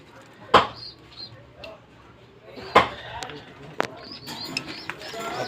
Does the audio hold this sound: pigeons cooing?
yes